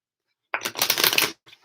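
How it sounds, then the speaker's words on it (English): A quick riffle of tarot cards being shuffled, one dense burst of papery flapping lasting under a second, close and clear, followed by a brief soft shuffle. "apparently we're supposed to shuffle"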